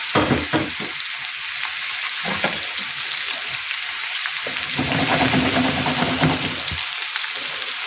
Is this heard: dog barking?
no